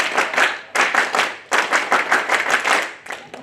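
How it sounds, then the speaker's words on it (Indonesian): A group performs the Indonesian scout clap rhythm, tepuk pramuka, at a Sunday service, sharp clustered hand claps in patterned bursts with short pauses between phrases. "Tepuk pramuka."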